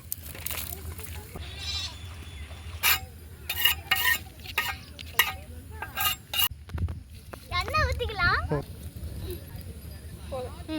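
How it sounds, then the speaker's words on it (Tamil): A spoon stirs sugar into a beaten egg mixture for bread omelette in a home kitchen, giving intermittent scraping and clinking bursts with short pauses, some faint sizzling in the background, and someone talking throughout. "சர்க்கரையை போட்டுக்கலாம் நல்லா கலக்கிக்கணும்"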